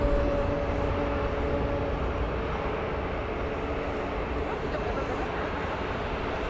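A British Airways airliner departing Phoenix Sky Harbor, its broad, steady engine roar filling the background at a constant distance with no clear rise or fade.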